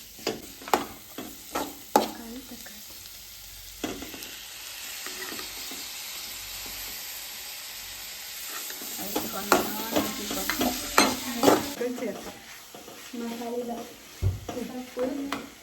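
Onions sauté in a pan for homemade biryani, with loud, irregular scraping stirs over a continuous sizzle that grows busier and more clattery toward the end.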